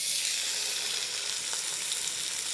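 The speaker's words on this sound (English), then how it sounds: "That's the sound we want to hear, that lovely sizzle." Hapuka fillet searing in a hot pan outdoors, a steady close, dense frying sizzle with a faint crackle, continuous and even throughout with no voices.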